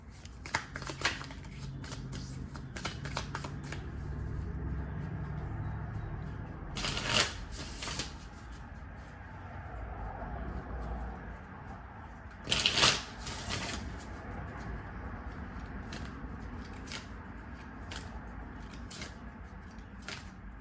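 Tarot cards being shuffled repeatedly, close by, with two louder riffling bursts standing out among quieter sliding and tapping.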